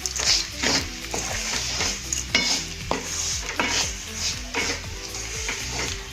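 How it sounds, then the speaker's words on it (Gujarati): Pahadi daal being stirred in a pot with a spoon, repeated scraping and clinking strokes over a soft sizzle, close and continuous. "2-3 મિનિટ માટે આ રીતે હલાવી"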